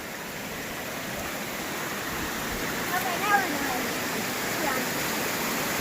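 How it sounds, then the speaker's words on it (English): Water rushes down a channel in a secluded forest, a steady broadband roar heard from close by, with a voice briefly speaking over it partway through. "that water is flying down through there"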